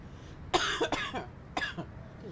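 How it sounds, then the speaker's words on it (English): Two bursts of harsh coughing, the first a quick double cough and the second shorter, close and fairly loud against a quiet room. "just a stupid cough that won't go away"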